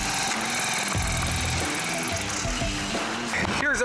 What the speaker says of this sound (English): So I'm gonna drill a hole here.